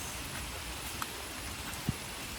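Steady monsoon rain in Kerala hisses in a broad, even wash, with a couple of faint drips or taps standing out.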